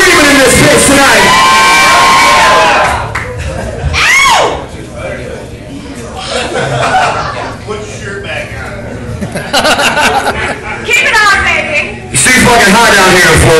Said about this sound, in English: let's hear some screaming in this bitch tonight